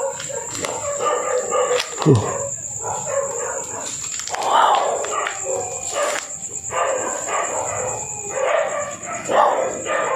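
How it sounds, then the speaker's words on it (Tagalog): Dogs howl and bark at night around an abandoned hospital, scattered moaning yowls and yips at a distance, with a constant high insect-like whine and occasional brief exclamations from a person nearby. "Umuungol yung mga aso mga idol."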